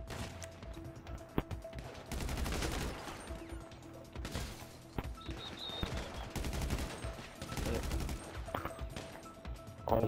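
Rapid bursts of video game gunfire from GTA 5 Online crackle in repeated volleys with sharp single shots, fairly quiet and mixed with game effects and occasional faint talk.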